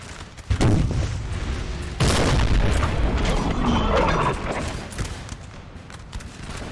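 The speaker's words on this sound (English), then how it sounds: "especially with this artillery just blasting away at the French lines" Cannon fire from artillery batteries in a Napoleon Total War battle at Talavera booms out in heavy, overlapping blasts, with a big detonation early and rumbling reports rolling on in a dense, continuous barrage.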